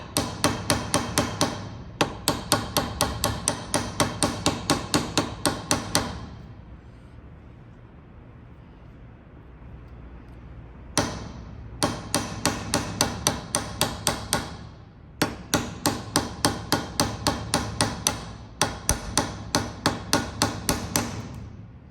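A hammer strikes repeatedly to mushroom a bolt head on a 1998 Ferrari 355 F1 clutch throwout bearing, in fast, close, metallic bursts of even blows separated by a few short pauses.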